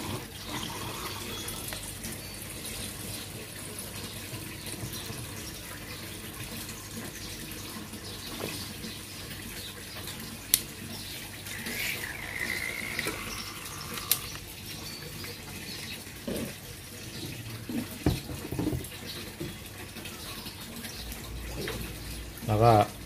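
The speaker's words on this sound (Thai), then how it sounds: "แล้วก็เติมน้ำเข้าไปครับนะแล้วก็ดูดออกอีกครับ" Water runs steadily into a fish tank holding two-week-old livebearer fry, a continuous close splashing flow that lasts throughout, with a few brief knocks and occasional voices.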